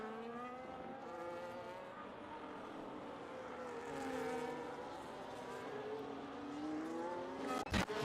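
Formula 1 race car engines in the F1 25 video game whine at high pitch as they sweep up and down through the gears, with several cars passing. Toward the end comes a sharp burst.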